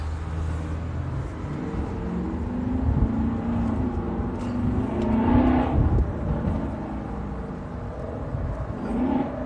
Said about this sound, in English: That Mustang's loud as fuck.